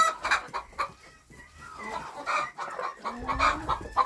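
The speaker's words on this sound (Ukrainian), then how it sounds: "кури тут верещать" Chickens cluck and squawk in short, overlapping bursts throughout, nearby and lively, with a rooster-like call rising near the end.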